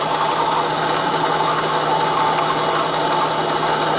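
A mini lathe cutting a motorcycle bung for an XLCH chopper, a steady, loud, continuous whirring hum with a high-pitched machining whine that stays even throughout, alone with no talk.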